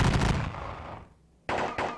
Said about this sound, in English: these guys can lay down a volley on them